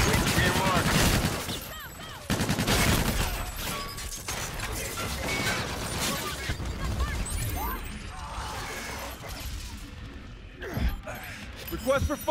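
Gunfire from Call of Duty: Infinite Warfare, a dense fusillade of shots and crashing impacts that runs loud and steady through the battle, easing somewhat toward the end, with voices talking underneath.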